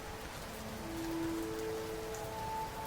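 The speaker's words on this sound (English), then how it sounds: "the rain drumming against the wall, desperately trying to break through to collect me" Steady rain drums against a wall in a dense, even patter, moderately close and continuous, with faint tonal music underneath and no voices.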